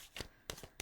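Tarot cards shuffled and drawn by hand, three short papery riffles and slaps in close succession, quiet and close with no talking.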